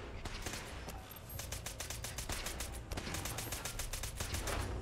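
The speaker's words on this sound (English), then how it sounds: "What are you shooting at?" Rapid bursts of gunfire, dense rattling shots like automatic fire, fill the whole stretch loudly and continuously with brief gaps, no talk over them.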